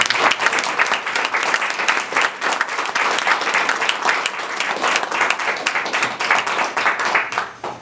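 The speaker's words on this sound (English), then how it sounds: "I'd like to give a round of applause" Sustained, dense applause from an audience at a retirement party, steady and fairly loud throughout before easing off at the very end.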